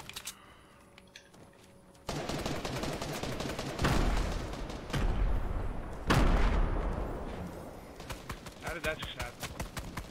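Bursts of rapid gunfire in a Fortnite squad match, sharp repeated shots in several loud volleys with quieter pops between, under occasional talk.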